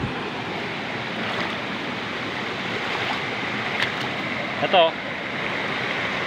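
Kipot Falls in Montalban, Rizal, heard as a constant broad rush of falling water, someone talking briefly over it.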